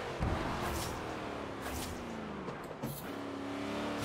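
Car engine in Forza Horizon 3, driven with a clutch and H-shifter, producing a steady drone with pitch sweeps as it revs and changes gear. It stays continuous at moderate level, with no talk.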